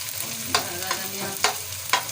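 Mash ki daal tempering being stirred in a hot pan: steady sizzling fry with four sharp scraping stir strokes at roughly even intervals, close and alone with no talk.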